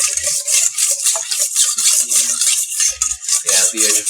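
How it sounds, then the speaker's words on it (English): A wire whisk beats instant pudding mix in a bowl. The scraping and swishing strokes come in a fast, steady rhythm, close and fairly loud, with a few soft clinks against the bowl. "So we're just going to take a whisk it all together here"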